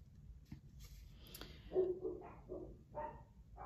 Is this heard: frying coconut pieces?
no